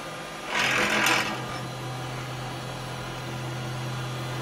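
A wood lathe hums steadily at a low pitch, with a short burst of higher whirring near the start before settling into a constant spinning drone; no talk is heard.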